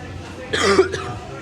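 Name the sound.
cough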